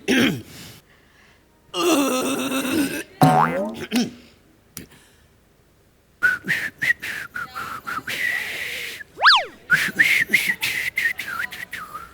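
A person tries to whistle but mostly blows air, giving breathy hisses and wavering squeaky tones in short bursts with silent gaps, and a few rising and falling whistle-like glides, on stage with people talking around it.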